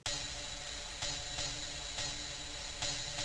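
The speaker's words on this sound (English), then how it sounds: "Some open hats." Open hi-hats programmed in FL Studio for a lo-fi song ring as a sustained, hissing wash, struck again at uneven intervals so each new hit swells briefly over the lingering sizzle, with no voice.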